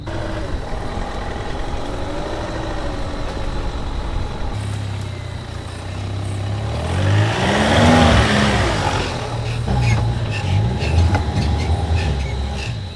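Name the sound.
4WD off-road van driving on a sandy track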